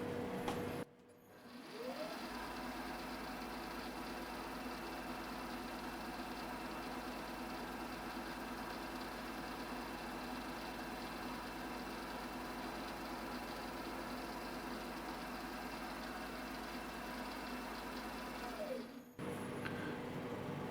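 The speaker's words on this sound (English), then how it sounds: "we're going to cut a 4mm hex in some free cutting mild steel" Rotary broach in a machine cutting a 4mm hex into free cutting mild steel, a steady mechanical hum with a rhythmic pulsing rattle that runs evenly for most of the span, starting and stopping with brief shifts at each end.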